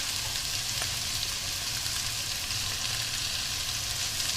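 Cumin, ginger and turmeric fry in a pan with chicken, giving a dense, even sizzle that stays loud and constant throughout without any speech.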